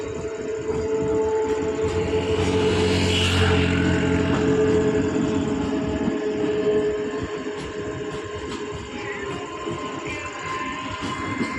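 Train at Ramnagar station on a foggy winter evening, a loud, close rumble of wheels and carriages with a sustained tonal horn or whistle sounding through the middle, no talk.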